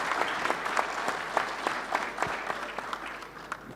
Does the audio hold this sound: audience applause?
yes